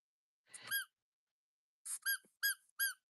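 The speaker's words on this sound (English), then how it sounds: "I'm squeaking the pig." A rubber squeaky pig toy squeezed in short bursts: one squeak, a pause, then four quick high-pitched squeaks in a row, close and clear against silence.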